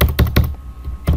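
Keys clatter on a computer keyboard as PHP code is typed, coming in quick clustered bursts of close, crisp clicks separated by a short pause.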